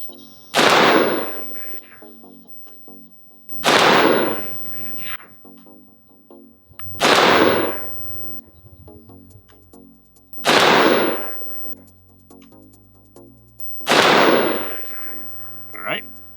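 Five single shots from an AR-15 rifle fitted with an APOC Armory Titan cold hammer forged upper. Each loud, sharp crack is spaced about three to four seconds apart, with quiet gaps between them.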